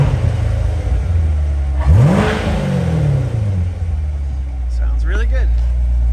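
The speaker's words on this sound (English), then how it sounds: "Give it a couple revs for you." A 2019 Corvette Stingray engine idles with a deep rumble, then revs sharply once, rising and falling back, while a person talks briefly over it.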